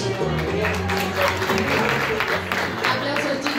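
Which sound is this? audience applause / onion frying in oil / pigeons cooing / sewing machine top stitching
audience applause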